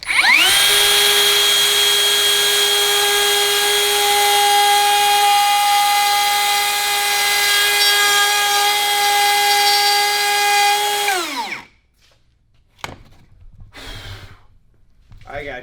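A Metabo HPT cordless plunge router cutting wood gives a loud, close, steady high-pitched whine for about eleven seconds, then winds down abruptly into near silence broken by a few faint knocks and rustles.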